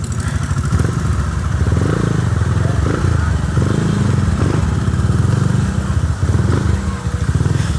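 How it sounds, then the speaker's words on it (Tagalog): Motorcycle engines rumble and putter steadily up close at a crowded tourist spot in Pangasinan or Nueva Ecija, a continuous loud chugging with occasional clatter and faint voices mixed into the busy background. "Tignan nyo naman, mga sasakyan, motor."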